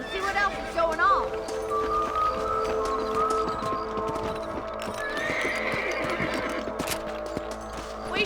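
In Red Dead Redemption Remastered, horses whinny and neigh over steady hoof clip-clops, with a faint background bed and occasional birdlike chirps, fairly close and clear.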